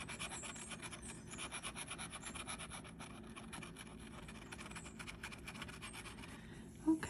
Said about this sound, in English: let's start scratching and see what we find